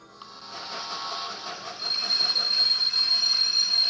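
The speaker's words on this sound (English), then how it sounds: "A train runs out of a distorted space." A train arrives in the PSP game Diamond no Kuni no Alice, a steady rumbling rush with a high metallic squeal that grows louder as it approaches, heard alone with no voices.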